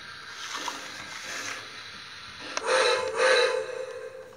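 A Lionel Polar Express 10th anniversary toy train sounds its whistle in bursts over a steady background rumble while moving, with a louder whistle blast toward the end.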